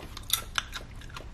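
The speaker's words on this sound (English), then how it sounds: "whenever you crunch down into them, you get a nice, like, little burst of blueberry-ness in the mouth" Crunchy freeze-dried blueberries are bitten and chewed close to the mouth, giving a quick run of sharp, brittle crackles and crunches at an uneven rhythm.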